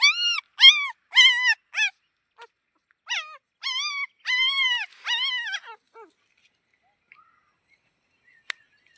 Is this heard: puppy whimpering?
yes